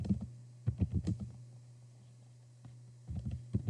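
Someone types a Google search on a computer keyboard in short bursts of quick, close clicks. A pause of about a second and a half separates the groups of keystrokes, with a low hum underneath.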